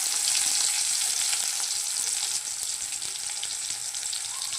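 Chopped onion sizzling in hot oil with whole cumin in a pan, a steady bright crackle and hiss that stays close and continuous, easing slightly midway, with no talking.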